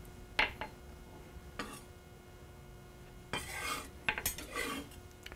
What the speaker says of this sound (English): Transfer that to a bowl.